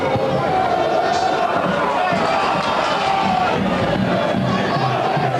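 A football crowd at a stadium during an Aldershot versus Barnet match in 2004 keeps up a continuous, broad roar of cheering and shouting. The din stays steady throughout, with a voice speaking over it.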